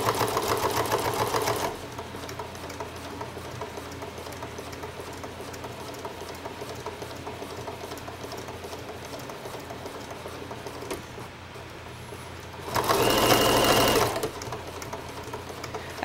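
A sewing machine stitches a placemat being made into a tote, running in steady rapid bursts at close range, with a louder stretch near the end.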